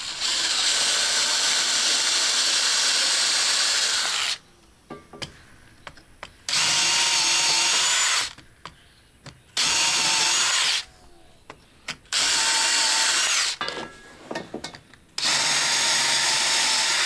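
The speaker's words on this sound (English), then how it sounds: "So let me just drill these out." A power drill drills out fasteners on a porch door in five loud, close bursts of whirring and grinding, separated by short quiet pauses.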